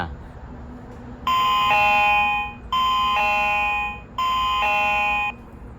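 A WiFi and GSM wireless alarm sensor sounds an electronic two-tone chime three times at even intervals, bright and clear over a quiet room hum.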